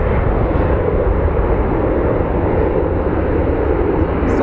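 An airliner departs Phoenix Sky Harbor bound for Anchorage, its jet engines producing a loud, sustained roar that fills the air close by with no break and no voices.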